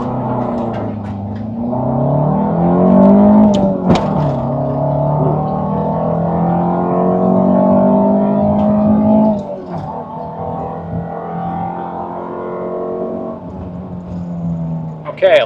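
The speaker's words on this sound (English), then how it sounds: "How hard can you launch with all-wheel drive?" All-wheel-drive Honda CR-V (RD4) with TSX power launching hard from a stop, engine revving up through rising pitch and a gear change, loud and close, with a voice talking over part of the run.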